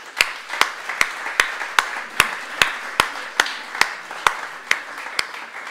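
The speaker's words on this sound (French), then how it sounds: "bravo, on peut vous applaudir" An audience at a morning gathering claps together in a slow, steady unison beat, with a dozen evenly spaced sharp claps ringing out at close range.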